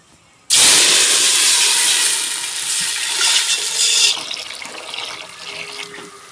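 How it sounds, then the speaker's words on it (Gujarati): Water poured into a hot pot of tempered dal bursts into a loud, sudden hiss of steam and rushing liquid. The sound holds strong for a few seconds, then settles into a softer, fading simmer. No voices. "હવે નાખશું આમાં પાણી."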